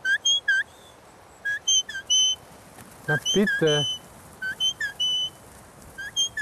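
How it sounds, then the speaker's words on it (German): Shepherd's whistle commands to a herding dog working sheep in the Mürztal valley: short, sharp, high whistle blasts repeated in clusters, with a longer warbling trill in the middle and a brief spoken remark. "Aber wer reagiert jetzt auf die Pfeife?"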